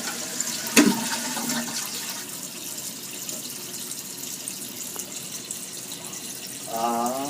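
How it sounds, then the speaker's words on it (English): A toilet flushes after a sharp clunk of the handle, a steady rush of water running and refilling the tank for several seconds, with a brief rising gurgle near the end and no one talking. "Flush the toilet."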